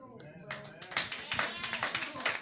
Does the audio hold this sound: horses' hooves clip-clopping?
no